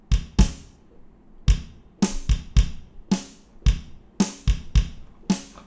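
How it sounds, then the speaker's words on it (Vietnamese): A programmed drum beat: deep kick thumps alternating with crisp snare hits in a steady, bouncy rhythm, loud and close. "Chúng ta sẽ bám vào cái tiếng kick với cả tiếng snare"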